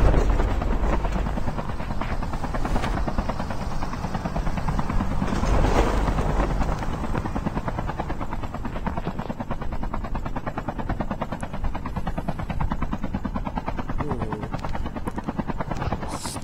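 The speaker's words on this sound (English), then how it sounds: "Oh, here's our chopper." A helicopter in Call of Duty Mobile drones steadily and close with a fast rotor chop that holds throughout, and a faint voice comes through briefly.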